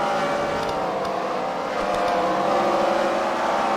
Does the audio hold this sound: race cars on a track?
yes